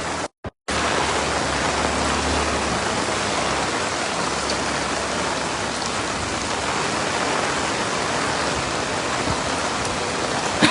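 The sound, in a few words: rain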